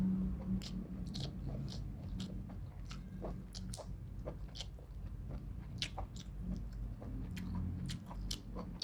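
Wet, close-up chewing of a spicy Thai Isan dish with sticky rice, the bites and smacking mouth sounds steady and continuous, with no talking.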